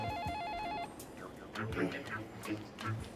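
A telephone rings with a warbling electronic trill for under a second, then a voice speaks over the background.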